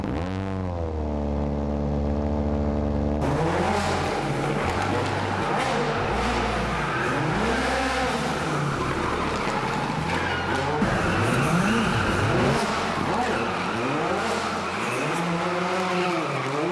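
Citroen WRC rally car from the 2017–2019 seasons, loud and close, engine revving hard through rapid gear changes with repeated rising and falling pitch sweeps over a steady roar, voices faintly underneath.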